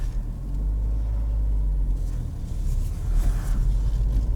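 A 2019 Ford Fiesta ST pulls away from a standstill, its engine a steady low rumble that swells slightly as it gets moving, heard from inside the car with no talking.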